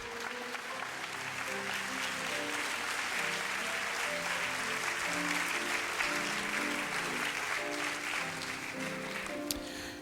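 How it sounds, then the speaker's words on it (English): A crowd applauds steadily for the women contestants at a Ms. Senior America Missouri pageant, dense clapping sustained throughout with a faint musical tone underneath. "Let's give all the ladies a big round of applause here today"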